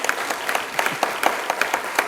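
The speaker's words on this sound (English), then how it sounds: "Yes, you can clap for him." Audience applause for Nigeria's Central Bank Governor Cardoso at an economic conference keynote, a steady patter of clapping hands filling the room for about two seconds with no talk over it.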